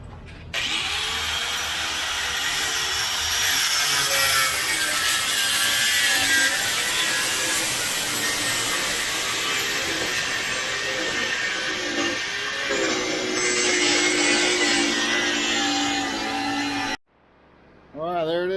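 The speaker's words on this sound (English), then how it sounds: "cutting a hole now for the drop feed for the tank" A power tool cuts a hole in a fuel tank for a drop feed during a Holley Sniper EFI install on a small-block Chevy, a loud, steady grinding whine that runs for about seventeen seconds before stopping abruptly.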